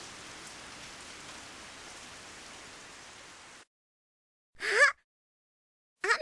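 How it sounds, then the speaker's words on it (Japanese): Steady, even rain hiss falling in an anime scene for several seconds, then cutting off abruptly to silence, followed by two short unrelated sounds. "雨止んだ"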